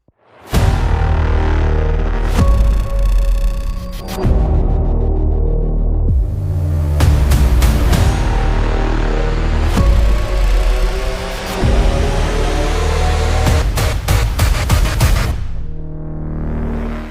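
A Ferrari F8 Tributo screams around a race circuit, its engine loud and close, rising through the revs with repeated sharp gear shifts and brief dips between pulls.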